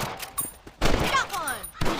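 Rifle shots at rabbits in Red Dead Redemption 2, a few sharp cracks spaced through a short stretch, with in-game voices and sound effects mixed in.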